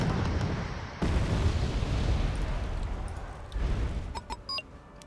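Heavy mortar explosions in the video game Wargame Red Dragon, a deep booming blast at the start and a second thump later, with rumbling decay in between and small clicks near the end.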